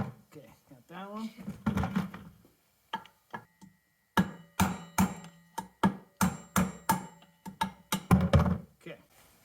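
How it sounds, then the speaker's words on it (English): Wheel bearings being knocked out of a Husqvarna TC65 motorcycle wheel, heard as a run of sharp, evenly spaced metallic taps close by, with talk near the start. "Now we're going to pop these bearings out."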